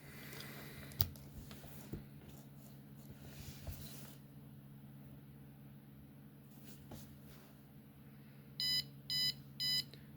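A piezo buzzer in a computer science lab circuit beeps three times in quick succession, short sharp electronic tones near the end after a quiet stretch of faint background noise and small clicks.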